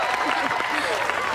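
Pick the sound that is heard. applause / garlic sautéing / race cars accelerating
applause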